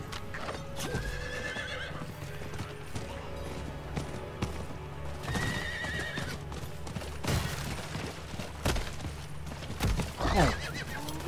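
Rhythmic hoofbeats of a galloping horse with occasional whinnies and neighs, plus mechanical clicks and thumps in the mix.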